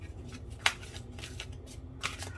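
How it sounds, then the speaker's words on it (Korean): Tarot cards shuffled and drawn by hand, giving soft papery riffles and a few sharp card snaps close up, with quiet rustling between them and no talking. "조언 카드는 엔젤앤서 천사의 조언 카드로 뽑아볼 거고요"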